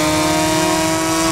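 A motorcycle engine in the racing game Ride 5 holds a steady, loud, high-pitched drone for a brief moment, with no talking.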